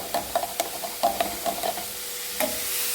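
Ground masala paste for crab roast is stirred into a hot pan, giving repeated close scraping strokes over a soft background sizzle.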